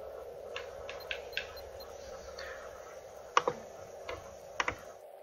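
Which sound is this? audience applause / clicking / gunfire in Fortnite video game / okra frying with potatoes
clicking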